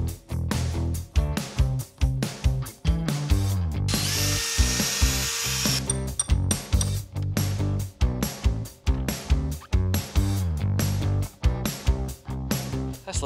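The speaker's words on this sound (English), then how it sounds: "I'm gonna drill my holes where my bolts are gonna hold everything together." A power drill bores holes through sheet plywood for a hammock stand, whirring in repeated short bursts with brief pauses between, close and loud, with a longer harsher grinding stretch partway through.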